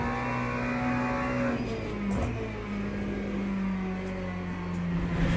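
Steady race car engine drone in the video game Le Mans Ultimate, with a sustained high whine and shifting pitch as the car holds speed, loud and continuous with no talking.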